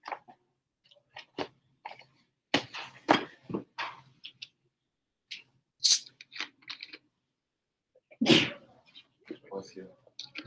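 A single loud sneeze bursts out near the microphone during an online chemistry class review session, set among scattered quiet speech and small clicks.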